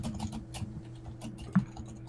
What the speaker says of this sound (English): I like the sound of your keyboard.